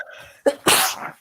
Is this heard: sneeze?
yes